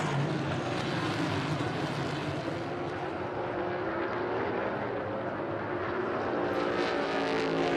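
NASCAR Cup Series stock cars on the final lap of a 2022 race make a loud, continuous engine roar that swells and recedes slightly as the field passes, with no audible talk.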